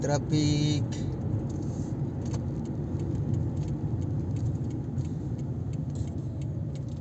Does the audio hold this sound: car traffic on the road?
yes